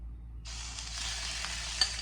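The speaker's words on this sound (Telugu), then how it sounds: "ఇప్పుడు ఫ్రై చేద్దాము" Masala-marinated salmon pieces frying in a little oil: a steady, close hiss of sizzling starts abruptly and runs continuously, with a brief sharp crackle near the end.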